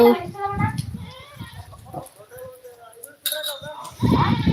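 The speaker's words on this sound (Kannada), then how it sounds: "ನೋಡಿ ಇಲ್ಲಿ ಮನೆ ಹತ್ರ ಎಷ್ಟೊಂದು ಕುರಿಗಳು ಬಂದಿದ್ದಾವೆ" A flock of sheep near a house bleats in several wavering calls, some close and some further off, mixed with a person talking over them and scattered farmyard noise.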